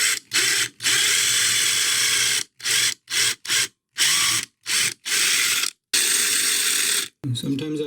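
A power drill boring a hole through the plastic shell of a Logitech G402 gaming mouse, loud close whirring in repeated bursts of varying length separated by short pauses, with a brief rattling noise at the end.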